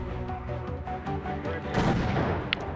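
An aircraft's rapid gunfire rattles against a UFO in the strategy game Xenonauts, a dense run of repeated shots over a droning engine, ending in a louder burst and a short sharp crack.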